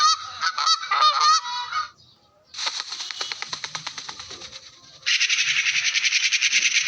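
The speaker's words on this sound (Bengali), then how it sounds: "এটা রাজহাঁসে" Goose honking played back through a phone sound app: loud, clear bursts of repeated honks, then a short pause, then a rapid rhythmic series of calls and a final sustained stretch of dense honking, with no talk.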